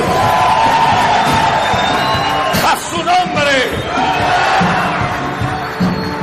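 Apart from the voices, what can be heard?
church congregation shouting and cheering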